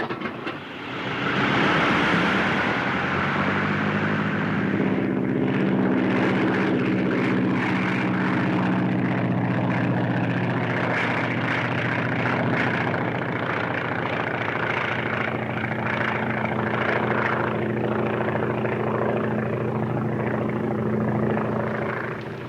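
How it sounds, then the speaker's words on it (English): Two propeller airplanes pass overhead in a 1934 action film, a steady loud droning engine roar with a rising onset that holds at a sustained level, no speech. "Here comes two planes."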